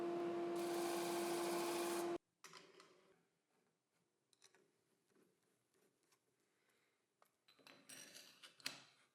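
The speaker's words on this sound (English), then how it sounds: "With the sanding disc, I sand down all the edges of the base." A sanding disc grinds along the edges of a router base plate in a loud, steady, whining burst of about two seconds, then stops. Quieter scattered clicks and handling taps follow.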